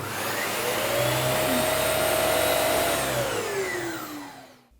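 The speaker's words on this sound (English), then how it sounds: "remove any blockages from your vacuum cleaner and that it's working again as it should." Dyson Big Ball vacuum cleaner running after a blockage has been cleared, a steady loud whine with a rising motor tone that drops away as the machine is switched off and winds down.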